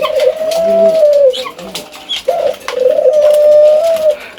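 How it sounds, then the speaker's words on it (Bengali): Pigeons coo up close, two long drawn-out coos with a short gap between them, loud and clear against a quiet background. "দেখেন আমার কবুতরটা কুকুটা কীভাবে ডাকতেছে নিজের সঙ্গীরা কি সুন্দর করে ডাকতেছে"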